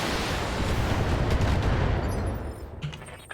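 Mechs in the Battletech video game fire their weapons, including long-range missiles, in a dense, loud roaring volley of blasts and explosions that fades out over about two seconds, followed by a few scattered impacts.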